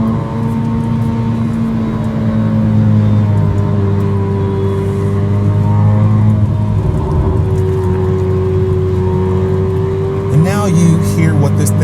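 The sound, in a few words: sports car exhaust cruising at low speed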